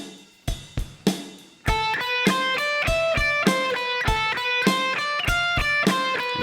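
Electric guitar lick looped over a steady drum machine at 100 bpm, a few isolated plucked notes first, then repeated bright picked phrases with clear harmonic tones over regular beats, close and alone.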